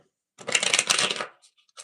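A quick, crisp riffle of playing cards being shuffled, one short burst followed by a few light taps, close and alone.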